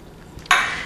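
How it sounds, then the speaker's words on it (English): Red coleslaw drops into a bowl with a single soft, close splat and brief rustle, fading quickly. "take that gorgeous red coleslaw and just drop it in your bowl"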